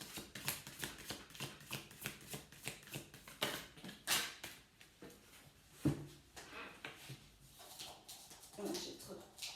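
Shozen Tarot cards being shuffled and drawn by hand, a run of soft riffling flicks and slaps in quick irregular bursts, close up, with a few sharper card snaps mixed in.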